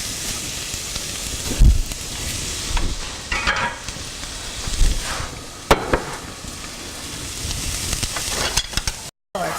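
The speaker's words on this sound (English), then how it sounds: "did you hear that sizzle?" Spaetzle batter sizzling in a hot pan, a steady frying hiss with scattered crackles and a few soft knocks and clatters from stirring, close and moderately loud, no talking.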